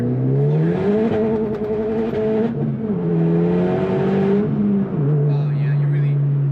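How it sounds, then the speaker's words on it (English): A Honda Civic Type R FK8 pulls hard in second gear, its engine note climbing loudly and steadily with brief dips before rising again, close and dominant throughout. "Let's just do another pull here. Second gear, forward."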